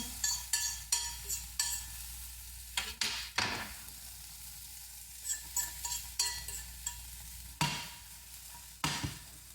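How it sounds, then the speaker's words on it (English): Bright red and green vegetables sautéed quickly in a hot pan, a continuous sizzle broken by a rapid series of spatula scrapes and tosses, close and clear with no talking. "Just a quick little saute."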